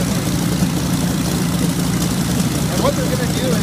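Vintage warplane piston engines, a P-40C Tomahawk and an A6M Zero, warming up on the ground: a steady, dense low rumble that holds evenly throughout without pause, close and loud.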